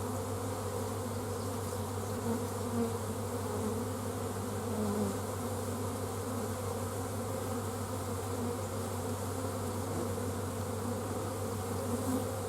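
Honeybees swarm over the frames of a nuc hive being installed, a dense, steady buzzing drone that holds at an even level throughout, close and continuous with no talk.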